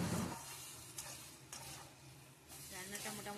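Taro leaves being stirred in a pan with a ground mix of cumin, coriander and black pepper. They give a continuous close sizzle, with scraping strokes and light clinks repeating every half second or so.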